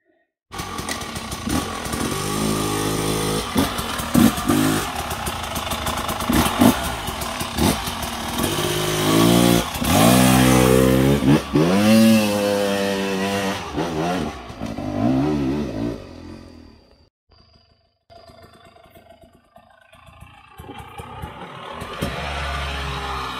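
A KTM 300 EXC Six Days TBI 2024 two-stroke dirt bike, modified, revs hard on an obstacle trail, with repeated sharp throttle blips and rising howls, loud and close, then dropping to a lower idle-like burble near the end.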